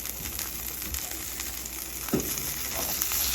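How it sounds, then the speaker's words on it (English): A stick of butter and oil sizzling in a pan over medium heat, steady close frying crackle with a brief louder pop, no voices. "You want to add your stick of butter to the pan. Then you want to add some oil to your pan."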